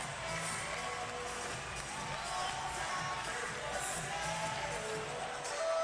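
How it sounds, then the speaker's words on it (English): An indoor arena crowd at a Baltimore Blast versus Chihuahua Savage MASL soccer match roars and cheers continuously at moderate distance, with whoops and shouts rising toward the end. "Well, this loud crowd is awake"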